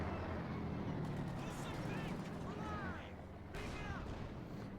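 Company of Heroes 2 battle: a Panzer tank fires on a cavalry weapon crew amid continuous rumbling combat noise, with faint voices calling out over the din.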